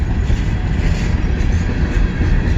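CSX freight train passing close by in Fostoria, Ohio, producing a loud, steady rumble of rolling wagons and wheels on the rails, heard alone without talk.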